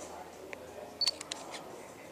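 A Panasonic GF2 camera's shutter is fired from its touchscreen at a press launch: a few short, soft mechanical clicks, one slightly doubled, heard close but faint over low room hum.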